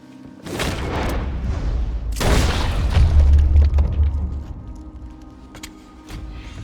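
Gunshots from Red Dead Redemption 2, two loud sharp blasts about two seconds apart with a rumbling low boom and trailing echo, followed by quieter game sounds.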